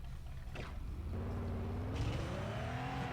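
A racing car engine from the Crashday video game drones and revs steadily, rising in pitch as it accelerates, loud and continuous with no talk over it.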